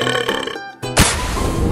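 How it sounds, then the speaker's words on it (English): A long, loud belch from a young person rumbles out after a short pause, thick and sustained to the end, with muffled background sound before it. "I think I'm burping"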